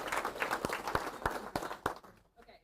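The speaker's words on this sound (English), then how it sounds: "Let's give them a round of applause" Scattered clapping from a small audience with a few sharp, distinct claps, fading out toward the end.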